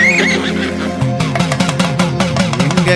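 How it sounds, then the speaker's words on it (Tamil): A white horse neighs loudly and close, its whinny rising and quavering over a devotional Tamil song with percussion and music running throughout. "அந்த வெள்ள குதிரை கணைக்கும் சத்தமோ"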